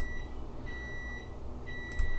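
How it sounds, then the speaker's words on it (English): Electronic beeps sound repeatedly at an even pace, thin and high-pitched, against a quiet room with some faint low rumble. "Annoying beeping!"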